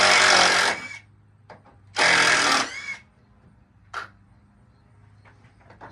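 A power tool backs screws out of a wooden flag in two loud bursts of whirring, each about a second long, separated by quiet gaps with small clicks and taps of handling.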